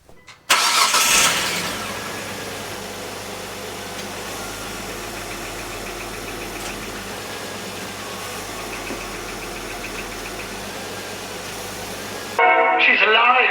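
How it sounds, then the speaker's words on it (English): Car engine cranks and catches after its transmission fluid was replaced with Bud Light beer, then settles into a steady, loud idle for about ten seconds before a voice cuts in. "I think we'll start it now and see what it sounds like."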